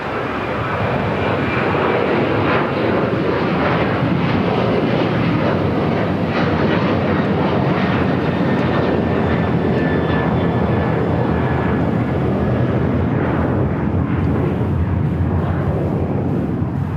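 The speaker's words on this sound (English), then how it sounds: "First takeoff of the stream, Alaska Airlines Flight 1352. It's a 737-900ER, now rolling down at 25 right." Alaska Airlines Boeing 737-900ER on its takeoff roll down runway 25 right at LAX, a powerful, sustained jet engine roar that stays loud and close for the whole stretch, with no talking.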